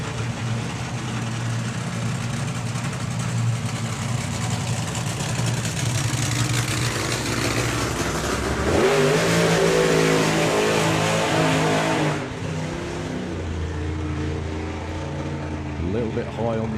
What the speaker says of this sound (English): with a loud engine in it.